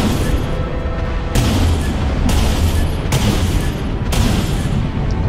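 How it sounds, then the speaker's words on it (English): Missiles launching in a sci-fi combat video game, a run of heavy booming blasts at roughly one-second intervals over a loud, dense rumble. "Launching missiles."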